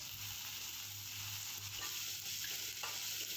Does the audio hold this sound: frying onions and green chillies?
yes